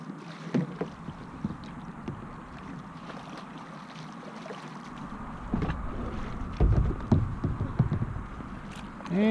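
Kayak paddling on a river beneath a highway overpass, with soft intermittent splashes and knocks of paddle and hull, growing busier and louder toward the end, no talking.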